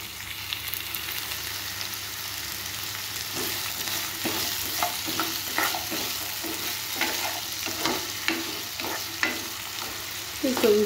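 Potato pieces fry in oil with green chillies, a steady sizzle that grows busier midway as a spatula scrapes and stirs in a regular rhythm, ending in a louder clatter, with no speech.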